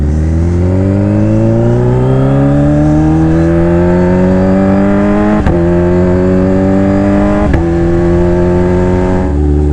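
Kawasaki Ninja H2 supercharged motorcycle engine being revved while warming up, loud and close, its pitch climbing steadily then holding high, with two sharp blips near the end before settling back down.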